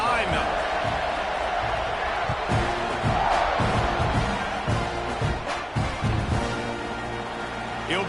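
A large football stadium crowd roars and murmurs steadily before a Gators kickoff, a dense continuous wall of distant cheering with scattered thumps and shouts throughout.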